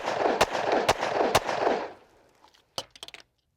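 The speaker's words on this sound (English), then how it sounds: "We're gonna go back to the Kahr, and this time if I do have a malfunction, I'm gonna go ahead and stop." A Kahr subcompact pistol loaded with Liberty Civil Defense ammunition fires three loud, sharp shots about half a second apart outdoors, followed by a few quieter metallic clicks and handling noises.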